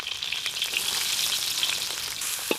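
Onion frying in hot oil for chow mein noodles, a steady bright sizzle and crackle with light popping, fairly close and without talk.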